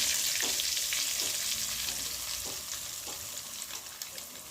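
Turmeric and curry frying in hot oil crackle and sizzle steadily, with spoon stirs every second or so over a bright, continuous frying hiss.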